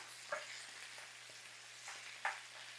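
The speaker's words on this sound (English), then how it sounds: "And we'll saute this for a few minutes." Italian sausage and onions sauteing in a pan, a faint continuous sizzle with a few soft stirring scrapes and clicks and a steady low background hum.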